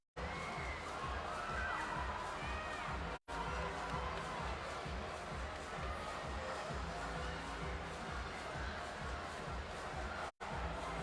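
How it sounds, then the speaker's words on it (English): A large arena crowd at the Torian Pro CrossFit competition cheers and shouts in a steady, loud roar that fills the whole stretch, with brief dropouts. "There is nothing like a Torian Pro crowd."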